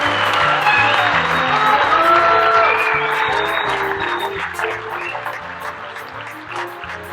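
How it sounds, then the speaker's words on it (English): Sustained applause from an awards ceremony audience at an industry convention, honoring an award winner; steady loud clapping throughout that tapers slightly near the end, with music-like tones underneath. "One more round of applause."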